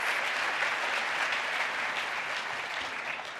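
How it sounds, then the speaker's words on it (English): A luncheon audience in a banquet hall claps for Geraldine, dense and even applause that tapers slightly over a few seconds. "So please, a round of applause for Geraldine."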